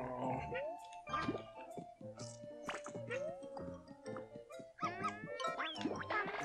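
A dog in the video game Yoshi's Crafted World, with a series of short barks and yelps repeating in quick bursts over a bouncy game soundtrack, with no one talking.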